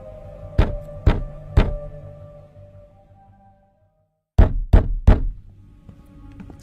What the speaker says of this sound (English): he first heard the knocking on the door